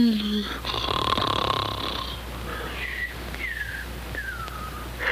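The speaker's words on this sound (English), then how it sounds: "Either stop snoring or cover your head with pillows." A cartoon character snores steadily in a looping animated story, giving low rasping breaths topped by whistling tones that slide downward again and again, loud and close, over a faint background hum.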